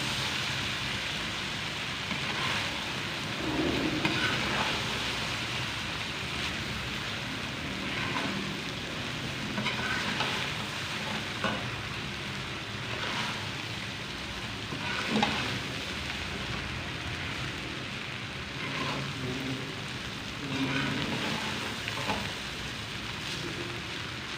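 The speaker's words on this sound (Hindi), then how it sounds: "मिक्स कर लेंगे अच्छे से" Veg and egg fried rice being mixed in a hot pan: a steady, rain-like sizzle runs throughout with faint scraping ticks from stirring, at moderate loudness and with no talking.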